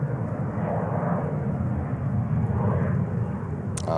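A Cathay Cargo airplane at JFK airport gives a steady, loud engine roar that fills the clip, broad and constant without a break, heard from nearby with a brief click near the end.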